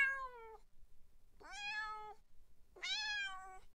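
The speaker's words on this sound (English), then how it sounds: "Let's try a single meow of a friendly cat." Three separate AI-generated friendly cat meows, each drawn out and tonal, with short silent gaps between them.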